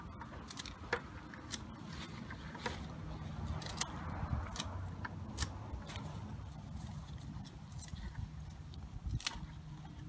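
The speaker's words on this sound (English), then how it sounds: "cut off the heads, just because it's easier to get them in the bag." Tansy weed flower heads being snipped off by hand outdoors, a series of sharp, irregular cutting clicks over rustling stems and plant material, with no talk.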